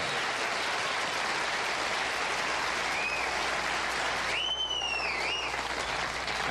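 A television studio audience applauds steadily and loudly throughout, filling the room with dense continuous clapping, and a brief faint whistle rises above it partway through.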